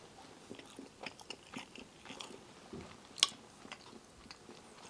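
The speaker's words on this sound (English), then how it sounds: "I wanted to try just the fish cake." Biting and chewing a Thai fish cake (thot man pla), a scatter of soft, close crunches and mouth sounds, quiet overall with one sharper crisp bite.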